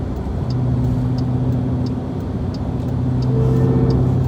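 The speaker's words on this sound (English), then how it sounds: "Traffic is jacked up a little bit today." Road traffic heard from a car on a busy Friday, a steady close rumble of engines and tire noise with no speech.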